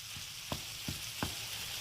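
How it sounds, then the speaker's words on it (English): Ground chuck browns in a hot pan for open-faced Italian sloppy joes, giving a steady loud sizzle, with three soft scraping stirs spaced evenly across it and no talk. "We've got just some ground chuck that I'm browning up"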